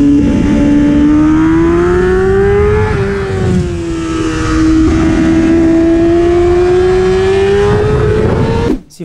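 A motorcycle engine held on light throttle while the rider maneuvers slowly, a loud close droning note that rises and dips gently with small throttle changes, alone without talk, cutting off abruptly at the end.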